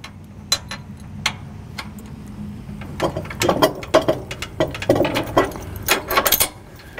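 A ratchet wrench clicks in quick uneven runs while a bolt is tightened during installation of a Compact LX VMT mount, the sharp, close ticks growing busier and denser toward the end.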